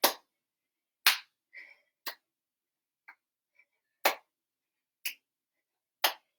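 Six or so sharp single hand claps ring out about once a second in a senior fitness class, crisp and fairly quiet, with a couple of faint softer knocks between them and no talk.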